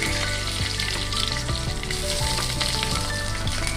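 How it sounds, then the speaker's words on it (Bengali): A bay leaf frying in hot oil for tempering, a loud, unbroken crackling sizzle close by with light stirring scrapes, no voices over it. "ফোড়ন দেওয়া হচ্ছে ওই তেলে ভেজে নেওয়া হচ্ছে তেজপাতা দেওয়া হলো"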